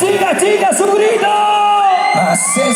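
Women at a wedding shout and cheer together, a loud crowd of whoops and yells rising and falling over a steady din, close and lively.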